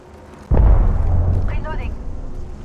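A grenade blast from the Apex Legends video game after an Arc Star is thrown: a sudden loud boom with a rumbling tail that fades over a couple of seconds, with brief crackling electronic effects partway through.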